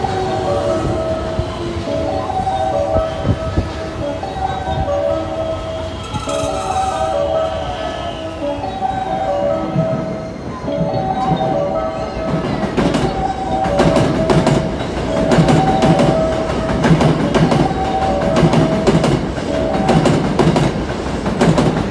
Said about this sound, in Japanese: 一番乗り場に電車が停車します